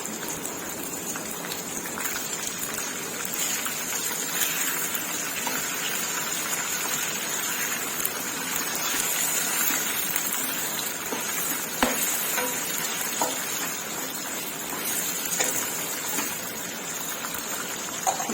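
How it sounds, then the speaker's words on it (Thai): Chicken carcass deep-frying in oil with lemongrass, a steady dense crackle and hiss running continuously at close range with occasional louder pops, no voices. "เวลาจัดได้ทอดไปเรื่อยๆค่ะ"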